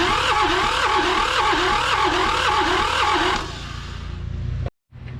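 A John Deere 650 tractor engine, sitting unused for over fifteen years and leaking exhaust from the engine, runs loud and close with a steady, throbbing rumble; the tone softens partway through, then cuts out for a moment before resuming.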